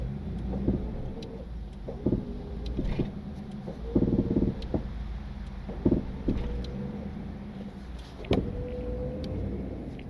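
A damaged car drives out of the mountains with a low, rumbling engine and drivetrain drone, joined by scattered knocks and clunks from the vehicle. There is no talk.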